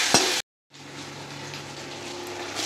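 Long-cut potato slices frying in hot oil with onion and nigella seeds, a steady close sizzle that cuts out briefly after a sharp clatter, then resumes evenly.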